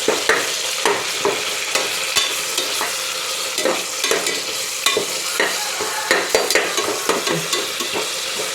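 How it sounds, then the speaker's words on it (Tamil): Tomatoes sautéing in a pan on lowered heat, a steady broadband sizzle close by, punctuated by frequent sharp scrapes and clacks of a spatula stirring in an irregular rhythm, with no voices. "இது கொஞ்சம் நல்லா வதங்கட்டும்."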